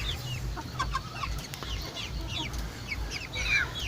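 Flock of 45-day-old broiler chickens clucking and chirping continuously at close range, many overlapping calls over a low steady hum in a lit barn, with no talk.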